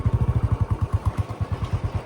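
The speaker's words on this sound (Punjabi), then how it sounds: "ਆਪਾਂ ਲੈ ਆ ਆਪਣਾ ਬੁਲਟ ਤੇ ਆਪਣਾ ਮੋਟਰਸਾਈਕਲ" Royal Enfield Bullet motorcycle idling nearby, a deep, even thump-thump of its single-cylinder engine pulsing about ten times a second, steady and loud on its own.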